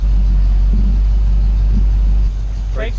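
An early Ford Bronco driving just out of the shop, its engine a heavy, steady low rumble close by inside the cab, with people talking over it.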